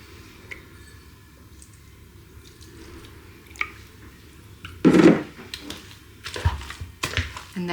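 Steamed potatoes with cheese are mashed in a bowl, giving soft squishy thuds and wet squelches that start quiet and grow into a few louder, irregular mashing strokes near the end.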